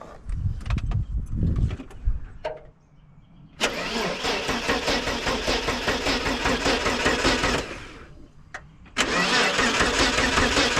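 An XE Ford Falcon engine cranks in short bursts, then a long steady starter whir for several seconds, a pause, and more cranking resumes; loud and close.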